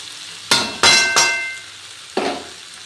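Prawns dropped into a pan of boiled potato, pumpkin and aubergine for a Bengali pui saag chorchori, giving three close sharp sizzling bursts in quick succession, then a fourth after a pause, each fading quickly.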